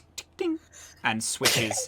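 A quick sneeze bursts out between stretches of a person talking, short and close, with speech sounds surrounding it.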